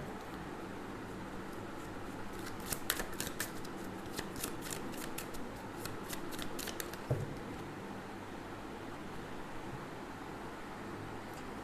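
Tarot card decks are riffled and shuffled by hand, a quiet run of crisp, rapid card flutters in the middle, set against a soft, steady room hiss.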